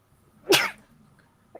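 A single short sneeze, close and fairly loud, in an otherwise quiet room, followed by a faint small sound.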